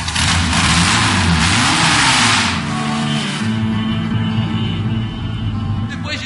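The engine of the vintage Patinho Feio race car revs loudly and close, rising and falling in pitch over a rough low rumble, with a burst of hissy noise early on.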